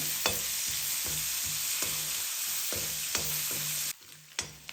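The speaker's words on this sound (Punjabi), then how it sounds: "ਪਿਆਜ਼ ਨੂੰ ਆਪਾਂ ਮਿਕਸ ਕਰਕੇ ਹਲਕਾ ਜਿਹਾ ਸੌਫਟ ਹੋਣ ਤੱਕ ਭੁੰਨ ਲਵਾਂਗੇ" Finely chopped onions fry in oil in a pan, a steady close sizzle broken by repeated scraping stirs of a spoon at a regular rhythm, the sizzle dropping briefly near the end.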